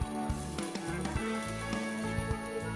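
A potato chilla fries in a covered pan, giving a soft, even sizzle that stays faint and steady throughout.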